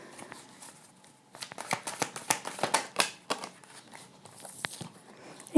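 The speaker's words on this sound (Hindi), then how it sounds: "Let's shuffle one more time." Tarot cards being shuffled by hand, a close series of crisp riffling slaps and flutters building in the middle and easing off, with no talking.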